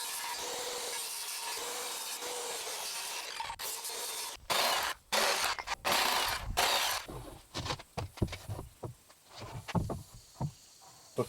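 A handsaw cuts through a wooden rafter pattern with a run of rough, rasping strokes of varying length, close by. The strokes get shorter and choppier toward the end, with no talking.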